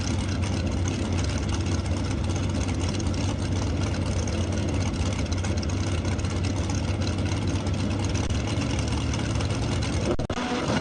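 Drag racing motorcycle and dragster engines at an ET finals event, a loud, continuous roar that cuts off abruptly near the end, with faint announcer speech under the noise.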